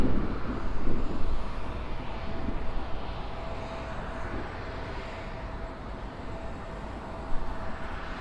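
Airliners on approach and landing at LAX, a steady distant jet roar with a faint thin whine running through it, swelling slightly near the start and once more late on.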